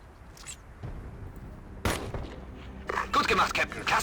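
Gunfire in the video game Ghost Recon Advanced Warfighter 2 crackles in sharp bursts, a single loud shot followed by a rapid volley of fusillade near the end, over quiet game ambience.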